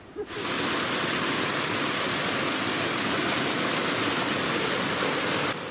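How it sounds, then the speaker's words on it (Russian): Rushing water roars steadily from a taiga stream that runs as a continuous cascade of waterfalls in the Ergaki mountains, a dense, continuous hiss and churn that holds at the same level throughout. "Фактически этот ручей сплошной каскад водопадов."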